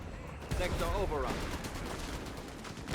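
Gunfire in the Company of Heroes 3 video game, a dense crackle of rapid shots and bursts running continuously under an excited caster's commentary.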